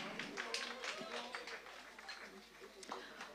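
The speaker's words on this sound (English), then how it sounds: "A round of applause for Angiwe." Scattered audience applause at the official launch event of Emerge Livelihoods, faint and patchy, with a voice talking over the claps.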